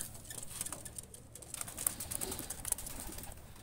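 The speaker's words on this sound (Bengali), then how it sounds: "দুইটা কবুতর ছেড়ে দেখাচ্ছি" Two high-flying pigeons, let loose by hand, give soft coos against a low, hissy background. Their wings make faint flutters and light rustles, with no voices.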